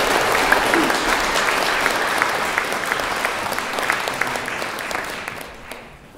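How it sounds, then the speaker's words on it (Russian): Concert audience applause in a Bashkir folk music hall, steady dense clapping from a large crowd that fades out toward the end, with no talk over it. "Ваши аплодисменты."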